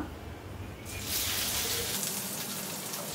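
Sliced onion lands in a hot pan of oil with cinnamon, star anise, clove and caraway for paneer biryani, bursting into a loud close sizzle that holds steadily after a quieter start.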